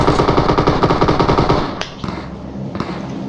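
Rapid automatic gunfire from a PUBG Mobile battle, a dense rattling burst lasting over a second and a half, then two sharp single shots ring out in a quieter stretch.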